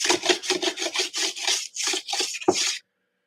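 Old sandpaper rubs against sanding blocks in about a dozen quick, close, rhythmic scraping strokes, each a dry rasp with short gaps between, no voices.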